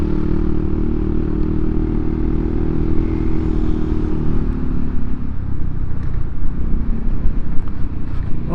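A Yamaha Xmax 250 scooter rides along a road with its engine droning steadily and loudly close by, the throttle opening and easing while wind and road rumble run underneath.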